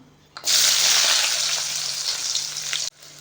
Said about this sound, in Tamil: இப்போது பெருஞ்சீரகம் வந்து ஓரளவுக்கு நல்லா பொரிஞ்சதும் நம்ம கட் பண்ணி வச்சுருக்கிற இந்த வெங்காயத்தை வந்து இதில் ஆட் பண்ணிக்கலாம்.